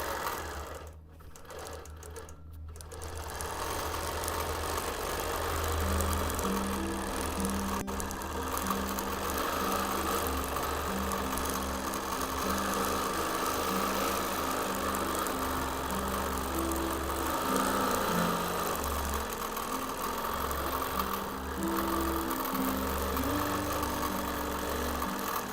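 A long-arm sewing machine runs steadily for a long stretch, a continuous mechanical whir with rapid stitching hum, close and even, with brief pauses at the start.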